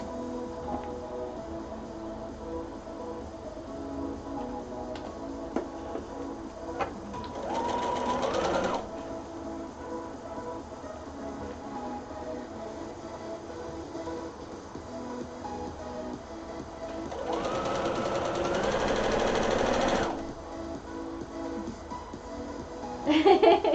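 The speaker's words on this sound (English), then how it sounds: "I'm just going to start sewing the sides and the shoulders" Sewing machine stitching the side and shoulder seams of a garment, running in two sustained bursts of steady whirring over a quiet room background.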